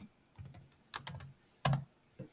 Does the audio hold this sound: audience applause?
no